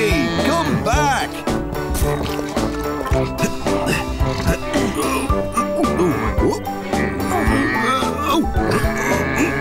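Cartoon cow mooing in a children's animated farm scene, several low moos repeated amid busy music, jingling and other barnyard animal noises, fairly loud throughout.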